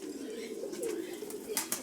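Pigeons coo in a low, faint drawn-out call, with a few sharp rustles or wing flicks near the end and no speech.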